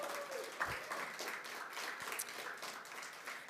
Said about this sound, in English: If you all can just give them a round of applause.